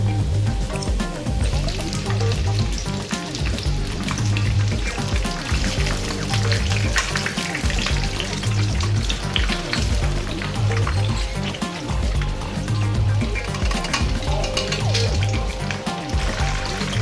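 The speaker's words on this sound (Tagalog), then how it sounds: "Once the oil is hot enough, carefully place the cordon bleu and cook each side for 4 to 5 minutes until golden" Breaded pork cordon bleu deep frying in hot oil, a loud, dense, continuous bubbling sizzle that holds steady throughout, close up with no voices.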